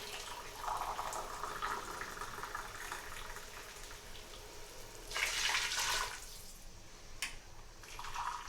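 Hot water from a measuring cup is poured over two cups of rice for cumin seed pilau, a faint steady splashing and trickling with a louder gush partway through, followed by quieter liquid sounds.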